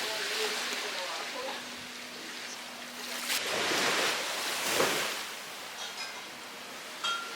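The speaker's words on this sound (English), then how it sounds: "just listening to the Caribbean Sea." Caribbean Sea waves wash onto the Jamaican coast in a steady surging hiss that swells in two broad breaking rushes, with wind noise and a faint hum from elsewhere.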